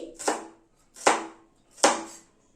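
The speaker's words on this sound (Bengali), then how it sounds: "মোচাটাকে এইভাবে কুচিয়ে নিচ্ছি।" Three crisp knife chops cut through banana flower on a board, evenly spaced and close, each a sharp thunk with a short crunchy tail, then quiet between strokes.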